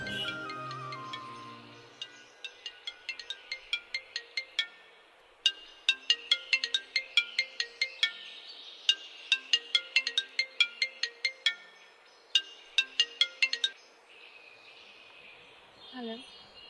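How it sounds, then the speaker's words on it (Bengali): A mobile phone ringtone plays a repeating melodic pattern of bright, quick notes in bursts, fairly loud and close, continuing for several cycles before stopping. "তোমার কি ফোন বাজে?"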